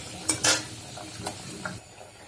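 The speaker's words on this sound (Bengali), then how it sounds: "কলাটা সিদ্ধ হয়ে গেছে, আমি উঠে কলাটাকে একটু ভেজে নিব।" Boiled banana is fried in a pan: a spatula scrapes and clinks against the metal a few times over a soft, continuous sizzle, close and clear with no talking.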